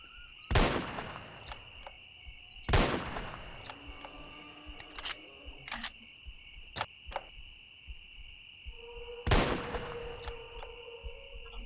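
An Uzi pistol fires in the Jurassic Park Hunter video game: three sharp shots spaced seconds apart stand out over steady game tones and scattered clicks.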